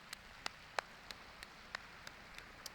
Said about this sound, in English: I think they both deserve an overhead clap too.